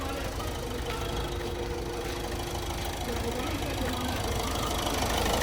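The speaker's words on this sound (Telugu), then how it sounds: "సింగల్ సెల్ఫ్కే బండి స్టార్ట్ అయిపోయింది." A 2016 Ford EcoSport Titanium with push-button start idles steadily at close range, a continuous low mechanical hum and rumble without pauses.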